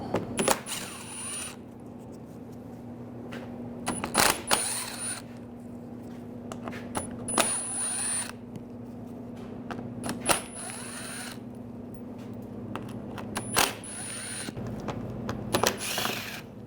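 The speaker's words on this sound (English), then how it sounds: "Using a T25 socket, we're going to take these screws out." A T25 socket on a ratchet backs out bumper screws on a 2009-2017 Volkswagen Tiguan, producing close, intermittent bursts of rapid mechanical clicking separated by quieter pauses, with no talking.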